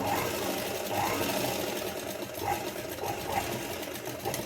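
A sewing machine stitches lace onto a small Laddu Gopal doll dress, running in a steady, continuous mechanical whir with a faint rhythmic pulse, fairly close and alone without talk.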